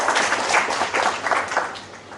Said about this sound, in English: So please give a big round of applause once again.